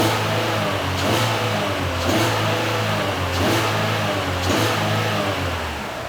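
Car engine revving repeatedly during a P0011 cam phaser fault check, rising and falling in steady pulses about once a second, loud and close with no talking.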